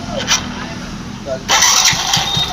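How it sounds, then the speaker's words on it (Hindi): A Hero HF Deluxe motorcycle's electric self-starter makes short whirring cranking bursts before the engine catches and settles into a close, steady running sound. A voice speaks briefly near the start. "सेल्फ मार के आपके लिए दिखाते हैं"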